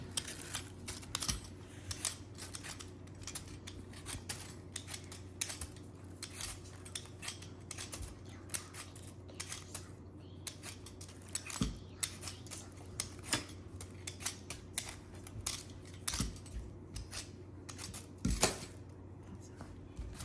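A sweet potato being peeled by hand in a kitchen, giving a steady run of short, crisp scraping strokes, fairly close and moderate in level over a low background hum.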